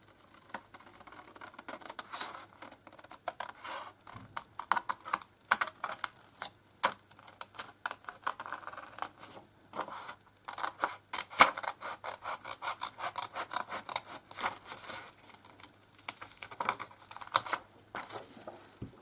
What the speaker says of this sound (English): So I'm just going to cut on the inside of the line.